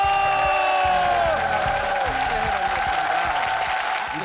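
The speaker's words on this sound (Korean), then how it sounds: "박수 보내주세요." Studio audience on a Korean KBS variety show applauding and cheering to welcome a group of active and reserve Marine Corps reconnaissance troops, with dense steady clapping and a few whoops, close and sustained throughout, with a sustained tone and a thin voice faint underneath.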